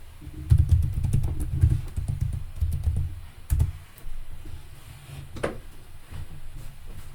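Keys clatter on a computer keyboard as a password is typed, a dense burst of clicks for several seconds followed by a few scattered, quieter keystrokes, with no talking.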